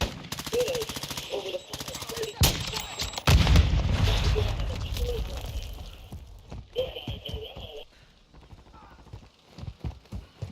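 Modern Warfare II multiplayer gunfire, bursts of rapid shots and a heavy boom over a busy battlefield mix, with game radio voices speaking among the shots.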